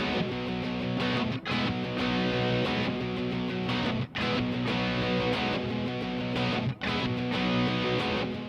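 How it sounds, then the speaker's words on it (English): Two electric guitars strum the driving rhythm parts of a song together, steady and loud, with brief pauses between phrases. "When you combine the two rhythm parts together, they sound like this."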